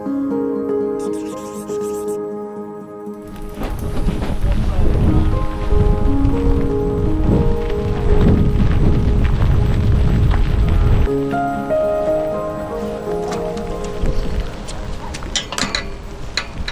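Steady rain falls on an open heath on a wet Sunday afternoon, a dense patter that swells loudly through the middle, with soft background tones.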